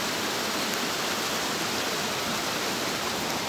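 Waterfall at Raigarh Fort in the rain, a dense, unbroken roar of falling water, loud and close, with no voices over it.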